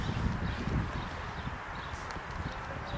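Horse hooves clip-clop at a steady, unhurried pace during a riding lesson on a long rein, a continuous close patter of footfalls with light wind and rustle behind.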